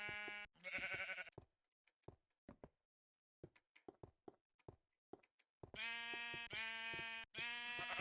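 Minecraft sheep bleating in the blocky video game, a short pair of nasal bleats near the start, then a run of three longer, louder bleats closing out the clip, with soft clicks and taps between.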